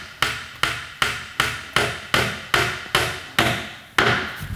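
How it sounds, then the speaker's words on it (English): A plastic core sleeve is tapped into a wall fixing hole, ten evenly spaced sharp knocks about half a second apart, close and loud with no talking. "We just tap that all the way in there."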